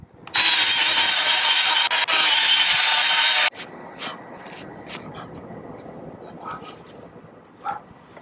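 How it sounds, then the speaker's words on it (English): Dry sanding a Yamaha FZ6R motorcycle headlight lens with 800 grit sandpaper: a loud, dense, continuous abrasive rasp for about three seconds, then quiet with scattered small clicks and handling noises. "We'll hit it again, 800 grit."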